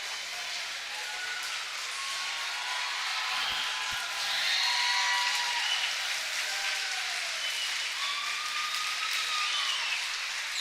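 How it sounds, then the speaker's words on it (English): Volleyball crowd at a regional final between the McBain Ramblers and Beaverton Beavers cheering steadily as a team returns to the court in uniform, a dense, continuous roar that swells slightly midway. "our team comes back out in uniform, and the crowd on the other side goes wild"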